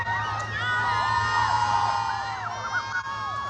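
A large crowd at a Trump event in Ohio cheers, whoops and shouts steadily throughout, with many overlapping voices and a constant low hum underneath.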